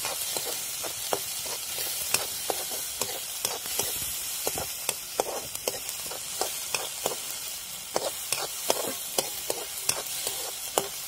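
Chopped onion being stirred in a hot pan for sev bhaji, a steady close sizzle broken by repeated sharp scraping clicks of the spoon against the pan. No one speaks.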